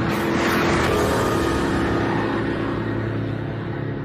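A Mercedes E63 AMG performance estate car drives at speed, its engine a loud continuous roar with road and wind noise filling the cabin throughout.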